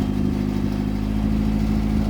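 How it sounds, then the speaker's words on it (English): A turbocharged Honda Accord F23 engine idling steadily with a smooth, even low rumble, close by and unchanging throughout. "you can hear it's just idling smooth now"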